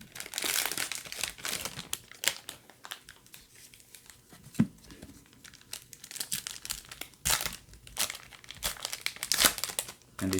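Foil wrappers of 2020 Bowman retail baseball card packs crinkle and tear close up in bursts of crackling, with a quiet stretch in the middle and a faint voice in the background.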